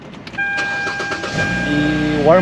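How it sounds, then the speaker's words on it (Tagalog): A car engine idles to warm up on a cold day, a steady mid-pitched hum with a whine rising toward the end, heard up close and alone. "pinapainit ko itong sasakyan mga 15 to 20 minutes"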